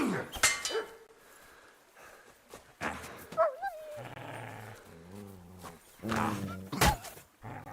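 A dog growls and barks while attacking in the medieval video game Kingdom Come Deliverance 2, mixed with combat noises, game voices and someone talking over the action.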